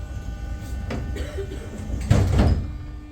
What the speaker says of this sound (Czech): Ukončete nástup, dveře se zavírají.